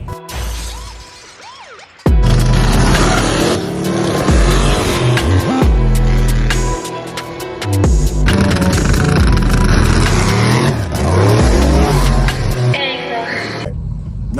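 A big-block Camaro drag car on 28-inch tires launches hard, its engine roaring loud and close for over ten seconds as the tires spin and break loose, with brief lulls and surges in the revs.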